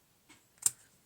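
A single sharp snip of shears cutting a small wooden stick, a short crisp cut with a faint click just before it, heard alone in a quiet space.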